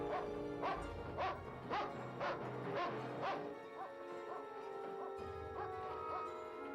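A dog in a Tales from the Crypt episode barks in a quick rhythmic string of about half a dozen barks, then gives fainter, spaced yips, all fairly quiet within the soundtrack.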